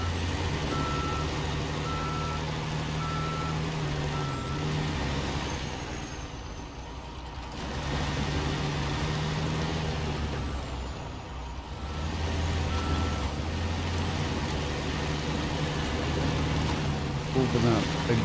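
In the SnowRunner video game, a truck reverses with evenly spaced backup beeps repeating over a low idling engine rumble, the beeping pausing midway before resuming, while a person talks throughout.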